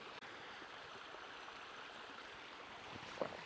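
A cold stream flows in the snowy Newfoundland backcountry in winter, a steady broad rushing wash heard alone at low level, with one faint click near the end.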